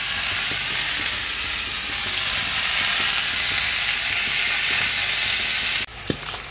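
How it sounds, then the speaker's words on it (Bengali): An egg frying in a pan crackles with a loud, continuous sizzle for several seconds, then the hiss suddenly drops away and a short clatter follows. "এরপর ডিম ভাজছি, আর ডিমটা ভাজা হয়ে গেছে,"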